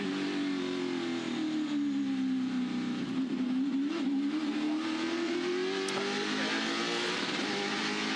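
A touring race car engine at the 2016 Touring Car Masters race in Adelaide drones loudly at a steady high pitch on the rev limiter, close and sustained, the pitch dipping and rising slightly.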